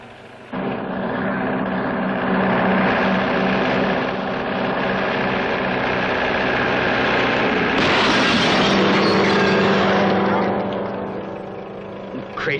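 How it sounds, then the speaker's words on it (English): A military vehicle engine runs steadily and loudly up close, a continuous low rumble with a rough vibrating edge, briefly surging and shifting around the eighth second before settling and trailing off near the end. "it's a military vehicle"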